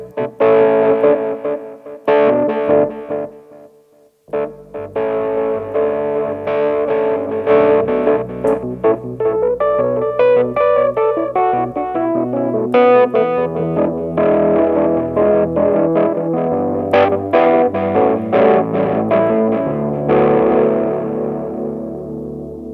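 Nord Piano 4 digital piano played with reverb and effects on, sustained chords and runs ringing out loudly with a washy, echoing tail, briefly dropping out before continuing.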